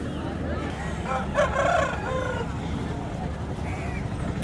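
Rooster at a weekly native chicken market crows once in a mid-clip burst, heard over a steady murmur of traders' voices and market bustle.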